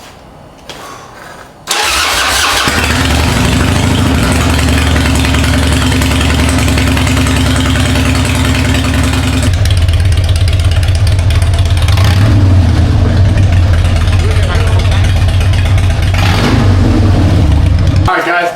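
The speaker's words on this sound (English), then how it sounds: "Alright guys, bike got started up" A Harley Dyna motorcycle engine cranks and catches after a short quiet start, then settles into a loud, steady idle with a few throttle blips and revs rising over the low rumble.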